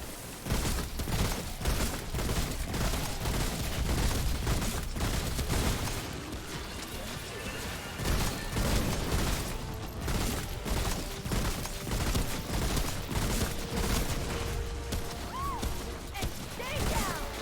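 Gunfire in the co-op shooter Remnant: From the Ashes as players aim at a boss's feet, with dense, rapid shots and crashing impacts filling the scene while voices talk over the action.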